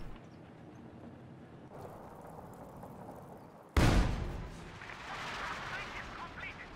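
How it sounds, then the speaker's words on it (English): Artillery barrage from 152 mm guns in Company of Heroes 2: a sudden heavy blast lands midway, followed by a rumbling, crackling tail over a steady low battlefield din. "Long range barrage onto this Maxim"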